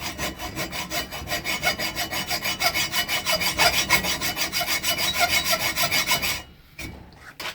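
A hand saw cuts into a broken motorcycle crankshaft in quick, steady back-and-forth strokes, close and loud, then stops just before the end.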